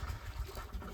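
Water pours steadily into a container of wheat seeds set out to soak, making a close, rushing fill sound that lasts about a second without any voices.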